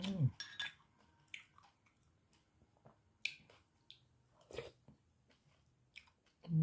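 Sweet glutinous rice-flour balls (bua loy) in sweet egg syrup being eaten, with soft sticky chewing and smacking sounds in scattered bursts close to the mouth, and a few quiet voiced murmurs between bites.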